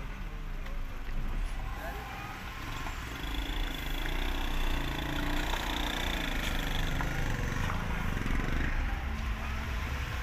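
A motorbike and a car rumble past on a narrow mountain road in Naran Kaghan, a steady engine drone mixed with wind and outdoor noise while someone talks nearby.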